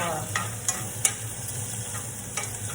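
Onions, carrots and peppers sautéing in a pan give a continuous soft sizzle, broken by a few light clicks of a utensil stirring, close up and without speech.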